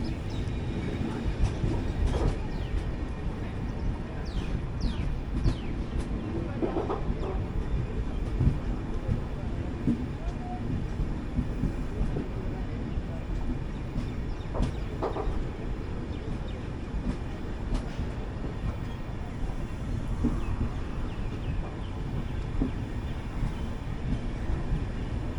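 The Mangala Lakshadweep Express rolls onto a loop line at Dholpur, heard from inside as a steady, moderately loud rumble of wheels and carriage with scattered clicks and clunks over points, continuous throughout.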